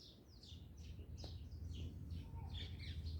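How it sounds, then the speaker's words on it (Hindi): Small birds chirp and tweet in short repeated bursts outdoors near a stadium, over a steady low rumble of distant traffic. "चिड़ियों की चहचहाने की आवाज़,"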